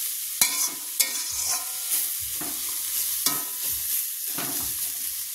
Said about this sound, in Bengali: তো তো আর একটু ভাজা হোক ততক্ষণে।